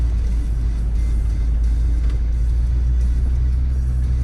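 Land Rover Discovery 2 TD5 crawling slowly uphill off-road in first gear, a steady low engine drone and rumble close by, continuous with no talk.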